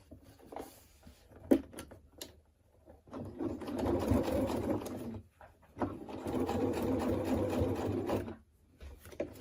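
A sewing machine stitches a cap visor in two sustained runs of rapid mechanical whirring, close and fairly loud, separated by a short pause, with scattered clicks and handling noises around them.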